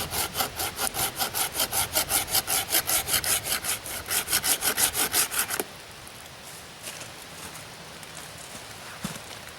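A hand saw cuts through resin-rich fatwood in quick, even back-and-forth strokes, loud and close for about five seconds, then stops, leaving quiet rustling.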